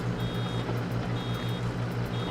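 Repeated reversing beeps from a vehicle in Farming Simulator 22, a regular pulsing alarm tone over a loud droning engine rumble.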